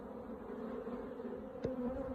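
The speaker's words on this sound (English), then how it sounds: "so these are all the flying bees." Honey bees from a queened split colony buzzing together in the apiary, a steady low drone from many flying bees close by, with one brief sharper pass partway through.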